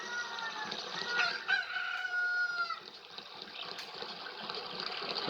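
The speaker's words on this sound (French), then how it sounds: "le chant du coq." A rooster crows in the game The Legend of Zelda: Ocarina of Time, one drawn-out stylized call lasting a couple of seconds over a steady background wash.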